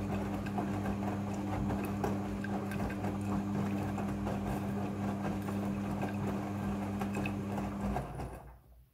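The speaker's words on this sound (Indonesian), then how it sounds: "Setelah proses pemerasan selesai, masuk ke proses pembilasan air yang kedua." A Midea front-loading washing machine runs its second rinse cycle with a steady motor hum and a soft churning whir that continues for several seconds, then cuts off abruptly near the end.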